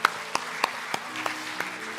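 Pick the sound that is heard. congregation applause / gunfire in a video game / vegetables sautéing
congregation applause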